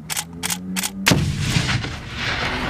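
A hand grenade detonates on a military live range, a single sharp blast followed by a rolling, debris-filled rumble that fades slowly; a few short thumps precede it.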